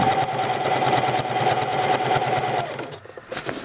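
Sewing machine running steadily while stitching a pocket cloth diaper with elastic, a continuous close mechanical whir with rapid needle chatter that stops abruptly near the end.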